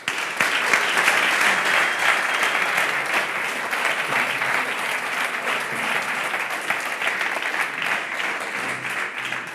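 A firm, sustained round of applause from an audience welcoming three speakers onto a stage, dense clapping that starts strongly and continues at a steady level for nearly ten seconds.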